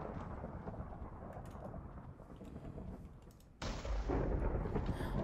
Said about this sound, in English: it strikes lightning where I am